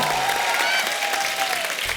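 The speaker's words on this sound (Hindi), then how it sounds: "एक बार जोरदार तालियां अनुपम जी के लिए और ईशा के लिए" A TV comedy show studio audience on The Kapil Sharma Show claps steadily, dense applause filling the space throughout without pause.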